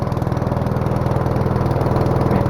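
A Troy-Bilt 6 hp snowblower engine runs on choke in below-zero cold, a loud, close, steady single-cylinder chug with a fast, even pulsing beat and no voices.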